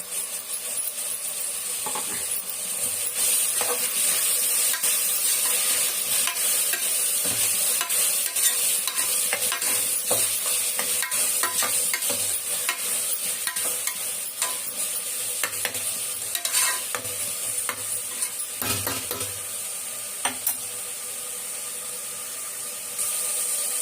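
Fresh mint and coriander leaves are sautéed in a pan for biryani, producing a continuous close sizzle. Stirring scrapes and clicks break in at intervals, and nobody speaks.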